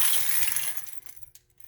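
Glass baby food jars on a turning lazy Susan give a quick cluster of close, bright clinks that fade out within a second or two.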